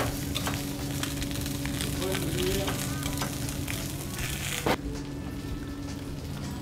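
A guinea fowl leg fries skin-side down in a pan with a little oil over low heat, giving a steady, even sizzle and crackle throughout, with a soft clink of the pan near the end.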